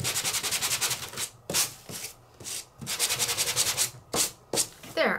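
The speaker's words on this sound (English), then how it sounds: "So I'm just going to give it a nice sanding until I'm happy with it." Sandpaper rubbed by hand over an embossed craft piece made with a cut-and-emboss folder, quick rhythmic scratchy strokes in bursts separated by short pauses, close and clear.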